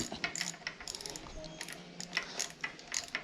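Handlebar riser bolts being tightened on an Interceptor 650 motorcycle, a quick run of bright metallic ratcheting clicks and small jingling taps, close and fairly quiet, without speech.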